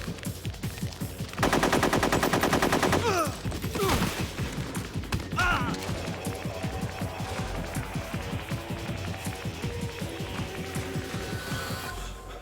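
Gunfire in Metal Gear Solid 3: Snake Eater, an opening rattle of rapid machine-gun bursts followed by a string of sharp single shots and mechanical clanks, moderately loud against steady game background sound.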